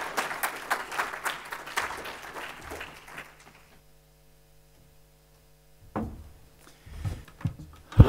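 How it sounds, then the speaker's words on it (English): Conference audience applauding a panel at a sports governance session. Scattered clapping fills the first few seconds, then falls to near silence before a few soft knocks and rustles. "please give the panel a big round of applause."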